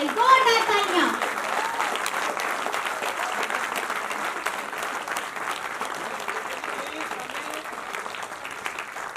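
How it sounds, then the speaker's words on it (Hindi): A theatre audience at a Hindi stage play about Shaheed Bhagat Singh applauds in a sustained, dense burst of clapping. A voice speaks briefly at the start, and the clapping then holds steady and loud throughout. "जोरदार तालियां।"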